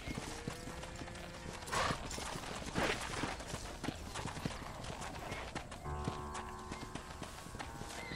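Horse hooves clip-clopping at a steady walking pace in a Red Dead Redemption ranch setting, fairly close, with faint voices and background clatter around them.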